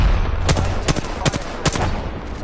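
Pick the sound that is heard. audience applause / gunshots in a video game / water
gunshots in a video game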